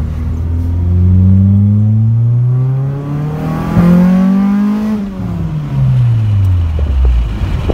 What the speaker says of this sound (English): the exhaust sounds great